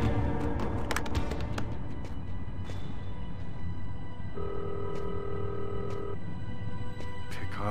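A telephone rings in the video game Fahrenheit, one sustained electronic ring tone standing out over a dense, steady game background.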